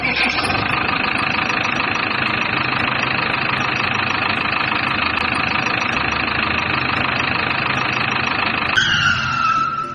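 A JCB backhoe engine runs steadily and loudly throughout, a continuous close mechanical drone with a slight shift in tone near the end.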